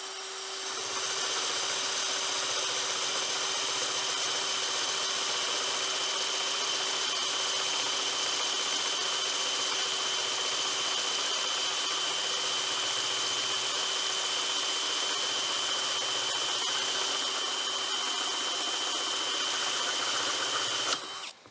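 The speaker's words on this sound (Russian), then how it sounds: "Пробуем дуб, сверлить буду на первой скорости" Rage by Vira Forstner drill bit boring into oak on a drill's first speed, a loud, steady, continuous motor whine with a constant pitched hum that holds unbroken for about twenty seconds before stopping abruptly.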